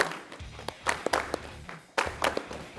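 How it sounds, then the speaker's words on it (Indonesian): A group of silat athletes gives a rhythmic spirit clap in Kuala Lumpur, sharp, close hand claps in quick bursts with short pauses between the groups. "Tepuk semangat!"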